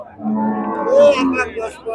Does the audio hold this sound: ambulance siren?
no